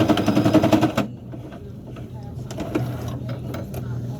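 A sewing machine stitches fabric for a handmade bassinet, giving a rapid, even mechanical clatter that runs for about a second and then stops, followed by quieter handling noises and a low hum.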